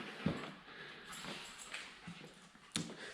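Dog in a garage workshop giving a few short whimpers and yips, spaced apart over a low background hum, close and fairly quiet with no talk.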